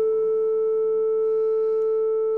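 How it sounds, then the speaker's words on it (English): A pure sine-wave tone at A 444 Hz holds perfectly steady and loud for the whole stretch, unbroken and without any other sound. "A very simple sound example is a sine wave."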